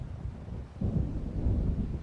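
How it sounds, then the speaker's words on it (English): In the Alan Wake video game, a low rumble of an approaching thunderstorm swells in after a quieter stretch, a deep, steady roll that stays loud to the end without voices. "It seems there's a storm coming."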